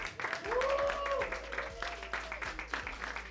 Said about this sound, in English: Please round of applause for Jasmine